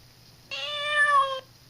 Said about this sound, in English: and it makes the cat sound.